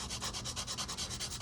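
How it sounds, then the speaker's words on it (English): A Tacom AH-64D Longbow model kit part is sanded close up in quick back-and-forth strokes, giving about a dozen rhythmic rasping swipes in a second and a half, with no voices. "sanding."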